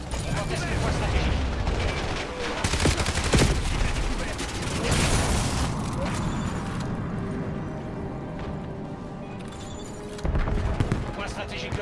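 Gunfire in a Call of Duty Black Ops 7 multiplayer match. Dense, loud bursts of shots and booming blasts run almost continuously, overlapped by in-game announcer voices.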